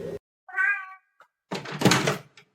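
A cat gives a single clear, close meow with a rising-falling harmonic tone, followed after a pause by a louder, harsher drawn-out yowl. A faint thump comes in between.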